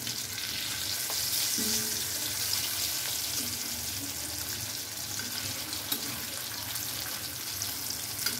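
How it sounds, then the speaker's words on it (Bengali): Fish-shaped pieces of banana flower frying in hot oil in a wok, giving a steady, close hiss and crackle of sizzling that runs unbroken throughout. "গরম তেলের মধ্যে মাছের শেপের মোচা এইভাবে করে ছেড়ে দিয়ে ভালো করে ভেজে নিতে হবে"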